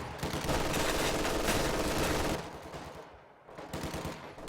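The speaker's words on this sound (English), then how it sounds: "MG firing on these rifles in the house" A machine gun fires on a rifle squad inside a house in the Company of Heroes 2 strategy game: dense, rapid sustained bursts, a brief lull near the end, then the rattling resumes.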